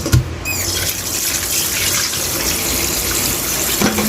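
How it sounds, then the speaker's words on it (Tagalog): Kitchen tap water runs steadily into a sink while raw chicken is washed for adobong manok, a continuous close splashing stream with no talking. "Ang next naman natin ay hugasan muna natin yung chicken."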